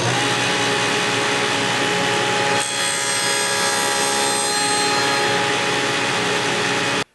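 Table saw with a dado blade cuts a test groove in a 3/4-inch-wide scrap of wood: a loud steady whine, a heavier cutting tone in the middle as the blade bites, then the machine cuts off abruptly.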